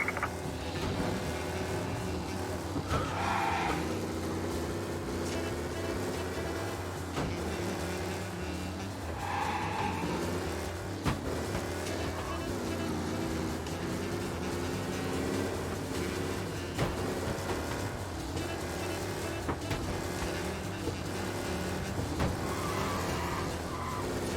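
A race car roars along night roads in the video game Mafia Definitive Edition, its engine droning steadily with tire squeals and skids breaking through, busy in-game ambience around it and no talk.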